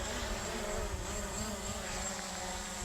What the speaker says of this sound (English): I think I might have to bring the drone back down and restart it